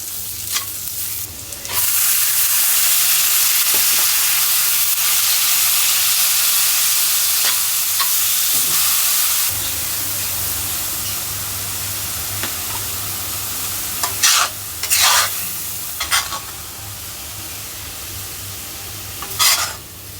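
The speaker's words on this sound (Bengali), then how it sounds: "ওই তেলের মধ্যে রসুন, পেঁয়াজ, কাঁচামরিচ দিয়ে একবার এই যে লাল শাকটা বাগার দিয়ে দিই।" Red amaranth greens sizzle and stir in hot oil with garlic, onion and green chili, a steady close frying hiss with a few sharp spatters and clanks of a utensil toward the end.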